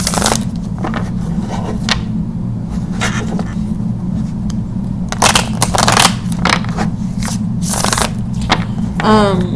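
Rider tarot cards are shuffled by hand in several crisp, rustling bursts of riffling and sliding, close and fairly loud over a steady low hum, with a short whistle-like sound at the very end.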